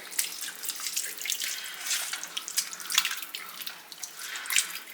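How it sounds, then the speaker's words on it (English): Water runs steadily into a cooking pot as a cup is added to diced tomatoes for a simmering stew, a close, continuous splashing pour with no talk over it. "And then I'm going to add in 1 cup of water and our can of diced tomatoes."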